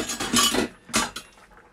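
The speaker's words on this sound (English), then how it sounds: "let's cut into the bread now" A knife sawing into hot, crispy bread at close range. Two short crackly bursts of the crust splitting are followed by fainter crumbly rasps.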